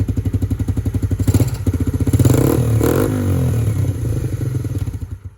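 A motorcycle engine thumps at a close, pulsing idle, then gets two or three sharp throttle blips that swell into a rough roar before it settles back to its lumpy beat.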